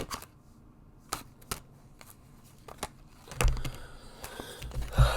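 Crisp bursts of tarot cards being riffled and shuffled, with scattered taps and soft rustling between the louder flurries, close by.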